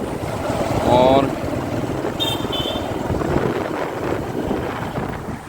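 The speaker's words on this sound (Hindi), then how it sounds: "मेरठ कैंट इलाके में ठंडी हवा चल रही है" Cold wind rushes and buffets a microphone outdoors in the Meerut Cantonment area, producing a constant rumbling roar with brief higher tones and voice fragments mixed in.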